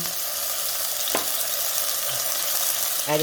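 Chopped tomatoes, onions and garlic frying in a tablespoon of hot oil for a Mexican beef soup give a steady, close, dense sizzle, with a brief utensil knock about a second in and a small clatter near the end.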